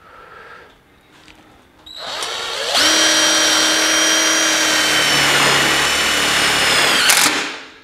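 Power drill driving a screw close to a spot weld on a car's sheet metal during a DIY mini tubs job, a loud sustained whine that ramps up and holds for several seconds, close by.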